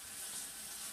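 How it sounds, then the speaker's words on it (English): Tap water runs steadily into a sink as hands are rinsed off, a continuous close hiss and splash with no voices. "I'm going to wash this off."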